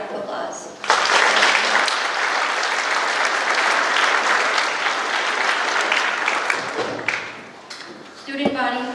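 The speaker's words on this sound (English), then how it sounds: "another round of applause" After a vocal jazz ensemble performs at a school alumni hall of fame ceremony, an audience breaks into loud sustained applause that swells in and tapers off, with a voice speaking near the end.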